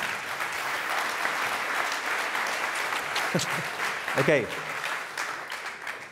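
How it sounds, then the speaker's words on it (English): A conference audience at a tech talk gives a steady round of applause, moderately loud and continuous, with a brief spoken word near the end. "Can we have another round of applause for his English?"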